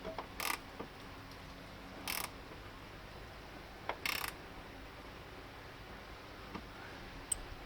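Tightening the tailgate gas strut bolt on a Subaru WRX, several short ratcheting bursts separated by quiet pauses, with faint metallic ticks between them.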